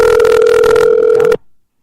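A phone call rings out with a loud, steady electronic tone that cuts off abruptly, followed by a brief faint tail and silence.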